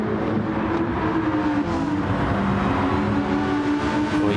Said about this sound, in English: You can hear the engine screaming.